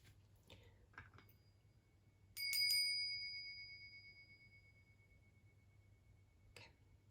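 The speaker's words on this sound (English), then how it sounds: "cover your ears because we're gonna ring the bell" A bell is struck once and rings out with a bright, sustained tone that slowly fades over several seconds, with a few faint ticks and a low hum before and after in an otherwise quiet room.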